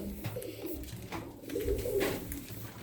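Tumbler pigeons gathered at scattered feed give soft cooing calls, faint and close, over low rustling and pecking noise.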